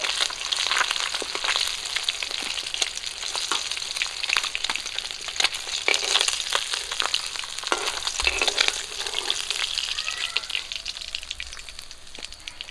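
River bata fish frying in hot oil, a steady close crackling sizzle with sharp spattering pops throughout, no talking.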